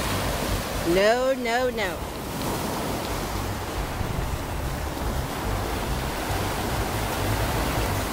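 Ocean waves wash steadily onto a beach in a broad, continuous surf roar, briefly overlaid by a short spoken word near the start.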